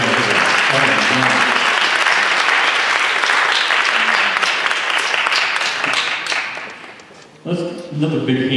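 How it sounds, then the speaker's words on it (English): A church audience gives a long round of applause to the Joyful Noise Ensemble at a choir concert in a Methodist church. The clapping is dense and full, fades out near the end, and then a voice starts speaking. "Let's give a round of applause for them."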